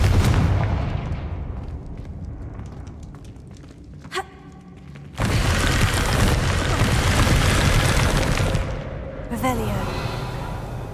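Confringo blasting spell in Hogwarts Legacy, a sudden loud explosive burst that holds as a roaring rumble, followed by a second blast, with a spoken voice earlier.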